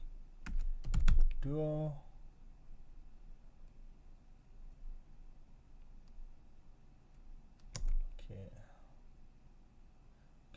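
Terminal commands typed on a computer keyboard while setting up Duo security on a Raspberry Pi 5: quick bursts of close key clicks near the start and again around the eighth second, with a little speech.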